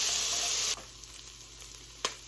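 Diced onion with garlic cooking in a crock pot gives a loud, bright sizzle for under a second, then drops to a faint, steady low hiss with a soft knock near the end.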